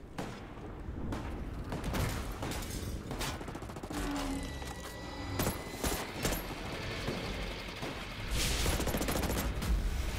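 Gunfire crackles through a firefight in Ghost Recon Breakpoint, with rapid overlapping shots and bursts at moderate distance, fairly faint overall, with occasional louder blasts.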